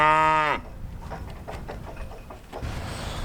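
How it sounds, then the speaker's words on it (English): Black heifers and older red cows on a farm let out a loud, drawn-out moo up close, followed by quieter shuffling and outdoor ambience with another faint call. "So all these black heifers here and these 2 older red cows are going out to our spring pasture"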